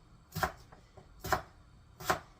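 Small potatoes are diced with a knife: three sharp, evenly spaced chops land on a cutting board, with quiet pauses between them.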